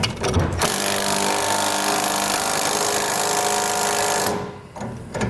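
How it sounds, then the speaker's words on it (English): A power tool runs steadily for about four seconds as it tightens a bolt on a Westin HDX nerf bar bracket on a 2021 Ram 2500, loud and close, then winds down and stops. "we'll tighten this bolt"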